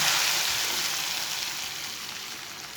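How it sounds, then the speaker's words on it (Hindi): Steady, loud sizzling of hot oil as an onion tempering is added to moong dal, a continuous hiss that fades slightly toward the end, with no voices. "अब प्याज का तड़का डाल लेंगे।"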